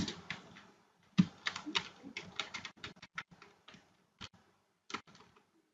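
Someone types on a computer keyboard while working in a Microsoft Excel spreadsheet, giving quiet, close, irregular key clicks in short bursts with brief pauses between them.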